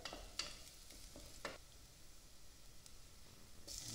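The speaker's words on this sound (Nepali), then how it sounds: "यसरी यो गाजर फ्राई गरे भने चाहिँ अलिकति हुन्छ नि" Carrots fry in a pan while cooking ramen at home, a quiet steady sizzle with a few soft stirring clicks and scrapes, no talk.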